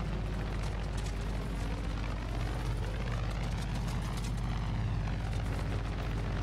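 Steady roaring rotor and engine drone from helicopters in the video game Far Cry 5, loud and continuous, with a low rumble throughout and no talking.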